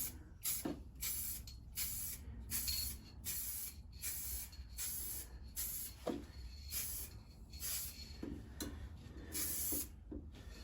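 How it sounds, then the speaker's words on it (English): A spray gun lays a light dusting coat of paint on a Jeep Patriot, giving a series of short hissing bursts in a quick, fairly regular rhythm, moderately close, with no voices. "This is a light dusting, we're just getting some paint on."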